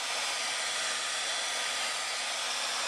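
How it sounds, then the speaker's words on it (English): A hair blow dryer runs continuously near the microphone, a steady, loud, broadband whooshing roar used to warm a painted gas tank, with no voices. "You may use a hair blow dryer and just blow it a little bit."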